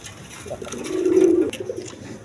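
A single high-flying Giribaz pigeon gives a close, clear cooing call that swells and fades over about a second, with faint room noise around it.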